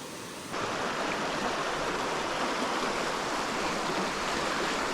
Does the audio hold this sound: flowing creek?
yes